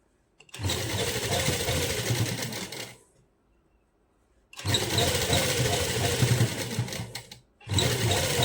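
A sewing machine stitches a seam on lace. It runs in three close, loud bursts of rapid whirring, with short silent pauses between them.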